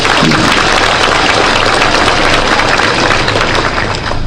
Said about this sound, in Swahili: Mwefurahi kupiga rais makofi.